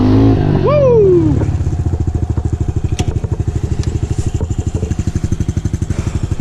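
Honda CRF110F pit bike fitted with fat handlebars, its small single-cylinder engine revving up with a rising pitch and then settling into a steady, loud chugging putter while being ridden, close to the microphone.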